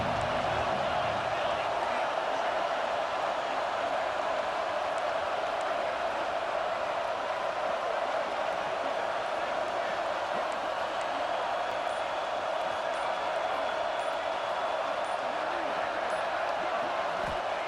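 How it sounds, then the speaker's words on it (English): Stadium crowd noise in the College Football 26 video game, a dense continuous roar held steady and loud throughout. "This crowd ready to make its presence known."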